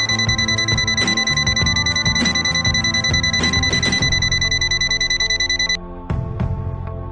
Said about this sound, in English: NCV non-contact induction, buzz a sound when voltage is sensed.